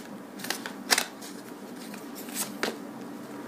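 A tarot card is slid from the deck with soft papery rustles and a few light flicks and snaps, close and quiet, with no speech.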